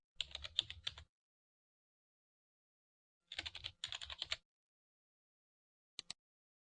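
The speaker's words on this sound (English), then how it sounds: "Type in your column headings and up to 16 labels." Keys clatter on a computer keyboard as column headings and labels are entered into Smart Notebook software, heard as two close bursts of rapid tapping and then a final quick pair of taps, with quiet gaps between.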